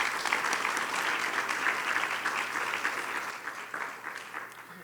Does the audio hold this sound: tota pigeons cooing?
no